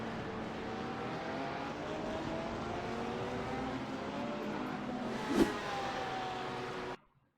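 A GT3 race car at Silverstone spins through a full 360 and drives off again. Its engine holds a steady droning tone, with a brief sharp click near the end before the sound cuts off abruptly.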